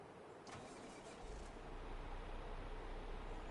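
A loud modded truck engine on a vehicle in Farming Simulator 25 drones steadily and alone, a brief rise near the start settling into a deep, constant rumble.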